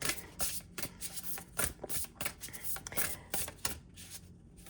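A deck of oracle cards being shuffled and rubbed together by hand, a steady rapid riffling and sliding with flicks throughout, close and continuous.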